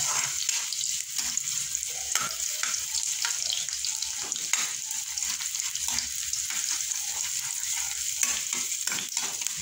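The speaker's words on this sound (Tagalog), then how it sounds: "Kaya kailangan medyo tostado yung luya para mas malapit siya sa ating adobo." Ginger frying in a pan for adobo, a steady close sizzle with frequent soft scraping stirs and small crackles running throughout, no talking.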